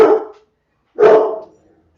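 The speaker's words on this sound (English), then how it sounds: "Sorry about the dog." A protective dog barks twice, loud and close, during an early-morning home yoga session, with a short silence between the two sharp barks and no talking.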